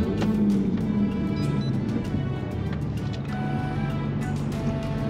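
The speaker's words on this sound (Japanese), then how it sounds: "エンジンスタート!" A Toyota Chaser Tourer V fitted with a replacement turbo idles nearby with a steady, even low rumble and a faint hiss, and no other sounds stand out.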